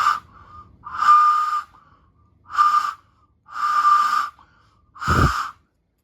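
A whistle-shaped object gives five short, breathy, airy whistle tones, a few seconds apart. The tone is steady within each blow, with a faint thin tone between the first two and a bump of breath noise on the last.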